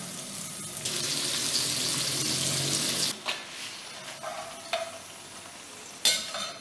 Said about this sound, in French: Mon wok est déjà au feu. Je vais mettre de l'huile, la laisser chauffer un peu et faire revenir les boulettes.